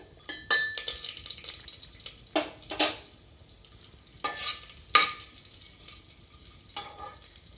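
Half a teaspoon of cumin seeds drops into hot oil for tomato bath, giving quiet, scattered crackling bursts and short sizzles with faint stirring, alone and without talk.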